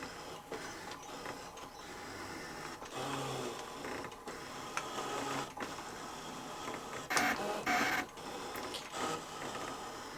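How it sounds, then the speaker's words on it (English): A Brother ScanNCut SDX cutting machine slices a vinyl design with its fine vinyl blade, giving steady mechanical whirring and clicking with brief louder motor bursts, close and alone. "So my design is cutting out, is cutting all the detail"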